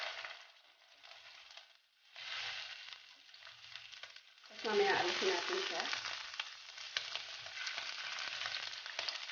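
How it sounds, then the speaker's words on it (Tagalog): Shrimp sizzle and crackle in hot oil while being fried for chopsuey, the frying swelling louder partway through and staying steady; a voice speaks briefly near the start. "prito muna natin tong shrimp."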